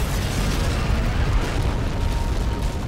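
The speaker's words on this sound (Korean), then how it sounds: "수류탄이 폭발했어" A loud, sustained grenade explosion roar fills the whole clip, a dense rumbling blast with no pause or quiet.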